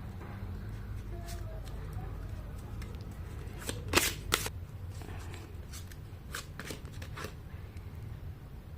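Tarot cards being drawn and handled from a deck, giving a few quiet, brief shuffling and snapping sounds scattered among soft room noise, with a sharper cluster of card flicks midway.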